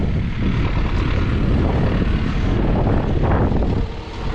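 Strong wind blows outdoors on a farm, a loud, rumbling buffeting roar against the microphone that holds steady and eases slightly at the end, with no talk.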